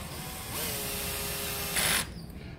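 A wobble driver extension turning a bolt on a KLR650 motorcycle, giving a steady close mechanical whirring run of about a second and a half that rises briefly in pitch before cutting off.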